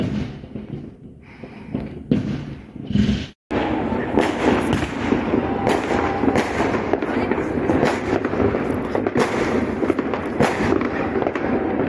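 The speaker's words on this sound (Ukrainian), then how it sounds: "подивіться на феєрверки" New Year's fireworks crackle and pop densely and continuously nearby on all sides, a loud rapid barrage after a few separate bangs, with people talking underneath.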